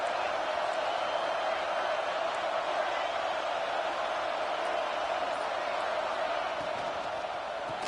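Stadium crowd roar in the NCAA 26 college football video game, Georgia against Washington, a steady loud wash of many voices holding constant across the stretch with no clear breaks.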